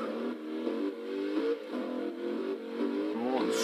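A Porsche 911 Turbo S engine revs in the racing game Forza Horizon 2, a steady mid-pitched drone that rises and dips through several gear changes, moderately loud and heard alone.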